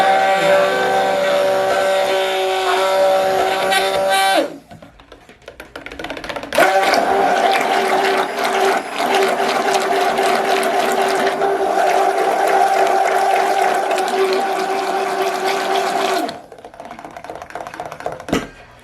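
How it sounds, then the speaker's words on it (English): Stick blender whirring loudly as it emulsifies a thick homemade body butter, two long steady bursts of motor drone broken by a short pause, heard close up without talk. "And then immediately stick blend this to bring it all together."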